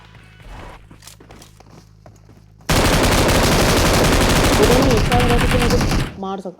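Dense, loud automatic gunfire in the video game PUBG Mobile bursts in after a quiet stretch of footsteps and lasts about three seconds without a break, then stops abruptly and leaves a brief metallic clatter.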